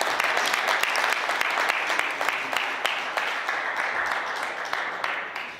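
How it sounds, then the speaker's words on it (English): A large audience at a Kappa Alpha Psi alumni Founders Day event breaks into a loud, sustained round of applause, dense overlapping claps that fill the room and slowly taper toward the end. "Let's give everybody a round of applause."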